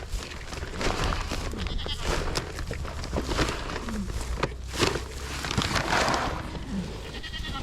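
Sheep and goats, including nannies, bleat intermittently at a farm feeding spot over steady outdoor background noise, with a voice speaking now and then and some footsteps.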